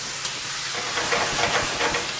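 Vegetable stir fry with black bean sauce and a splash of vegetable broth steams in a pan, giving a steady close hiss with soft bubbling that swells slightly in the second half.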